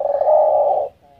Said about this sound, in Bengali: ঘুঘুর ডাকগুলো হয়তো অনেকে ভুলেই গেছেন